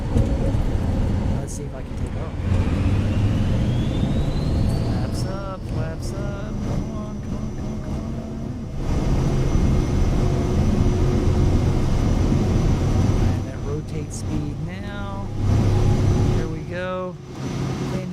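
A simulated aircraft engine in a flight video game, droning steadily through a takeoff with a rising whine, while someone talks over it at intervals.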